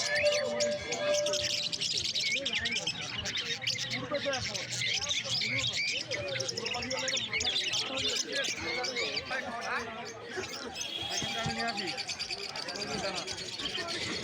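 Birds, including cockatiels, chirp and call continuously at a pigeon market amid busy crowd noise, with people talking over the birds.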